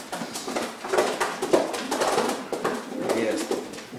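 Racing pigeons in a loft, several birds cooing in overlapping low murmuring calls throughout, close and moderately loud, with someone talking intermittently over them.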